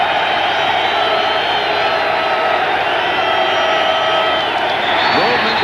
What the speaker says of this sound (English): Now the crowd will try to bolster the Eagle defense.